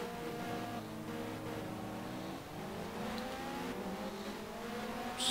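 A Vauxhall Cavalier touring car from the 1995 BTCC season laps Donington in the racing game GTR 2. Its engine holds a steady high rev, with harmonics climbing and dropping through gear changes, and other cars can be heard nearby.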